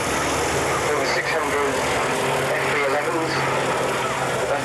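A Hawker Sea Fury FB-11 propeller fighter with an 18-cylinder Centaurus radial engine at a 1989 airshow in Barton, a steady engine drone and rushing noise in the distance, with a commentator talking over it.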